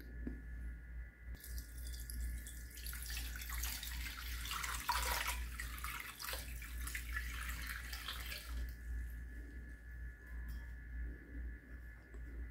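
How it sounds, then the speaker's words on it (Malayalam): A homemade pest-repellent liquid is strained and poured into a vessel, giving a steady splashing trickle that swells in the middle and thins out near the end, with no talking. "അപ്പം നമുക്ക് ഇത് ഒരു പാത്രത്തിലേക്ക് അരിച്ച് ഒഴിക്കാം."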